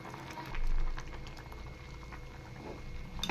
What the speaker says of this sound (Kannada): ಸೊಪ್ಪು ಚೆನ್ನಾಗಿ ಕುದೀತಾ ಇದೆ.